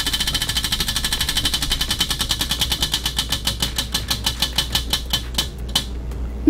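A prize wheel spins with its pointer clacking against the pegs, a rapid ratchet of ticks that gradually spaces out as the wheel slows and stops, loud and close.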